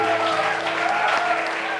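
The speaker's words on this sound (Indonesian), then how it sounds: "Kita berikan tepuk tangan dulu" A studio audience on a TV talk show breaks into dense, sustained applause, loud and steady from start to finish.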